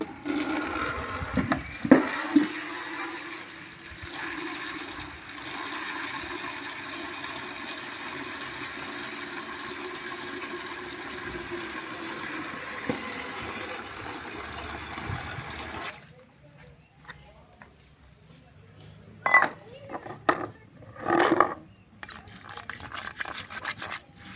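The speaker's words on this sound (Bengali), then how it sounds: "মাছগুলো শুটকি মাছগুলো মাকে ধোয়া করাচ্ছি" Small dried fish being washed in water for a curry of small fish with taro stems, with steady running and splashing water throughout, then quieter patches broken by a few louder splashes near the end.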